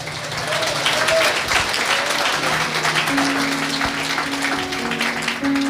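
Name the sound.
church congregation applauding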